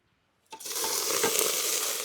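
Green chillies go into onions frying in a pot over a campfire in a forest hut. After a moment of quiet, a sudden loud sizzle bursts up and holds steady and close.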